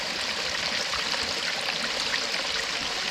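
Fresh mountain stream water flowing over rocks and earth at about 600 meters above sea level, a steady, close, hissing rush with bright trickling detail and no pauses.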